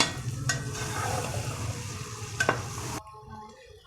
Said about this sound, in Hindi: अब हम डालेंगे बंद गोभी। इसको अच्छी तरह मिक्स करेंगे।